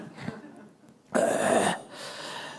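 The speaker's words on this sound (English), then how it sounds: "Coughing is not going away." A person coughs and clears their throat during a spiritual gathering: a soft rasp at first, then one loud, harsh burst of coughing near the middle, followed by a fainter hacking sound.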